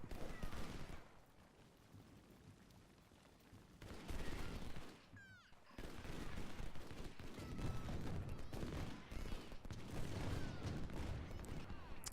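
20-pounder Parrott cannon fire in the Civil War strategy game Ultimate General, heard as rolling bursts of booming gunfire and crackling battle noise, loud and dense, with a brief lull partway through.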